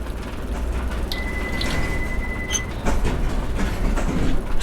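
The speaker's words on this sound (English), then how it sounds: "This is a Circle Line train to Edgware Road via Paddington." A Circle Line subway train in the World of Subways video game braking toward a stop: steady low rumble with a sustained high brake squeal mid-way and faint clatter, no voices.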